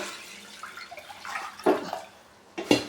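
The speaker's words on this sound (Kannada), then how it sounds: "ಒಂದಿಂದ ಎರಡರಷ್ಟು ನೀರು ಹಾಕೋಣ" Water is poured into a cooking pot of washed rice and moong dal in a couple of short splashing bursts, close by, with quieter trickling and clinks between them.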